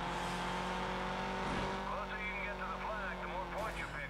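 Race car drifting in the racing video game GRID, with a continuous engine drone and squealing tires sliding through a corner.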